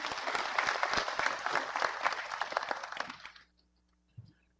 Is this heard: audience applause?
yes